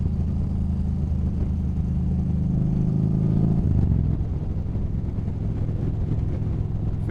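A Yamaha Bolt motorcycle engine drones steadily while being ridden, a continuous low rumble with a slight shift in tone partway through, close and constant, mixed with wind noise and no speech.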